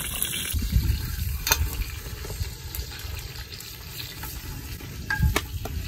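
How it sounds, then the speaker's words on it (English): Onions sizzling in beef fat inside a potjie pot over an outdoor wood fire, a steady close crackling fry with occasional stirring scrapes and pops, moderately quiet and continuous, no talking. "And when it starts sizzling, then I know it's ready to cook."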